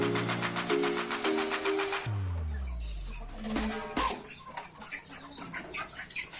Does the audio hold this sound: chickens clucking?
yes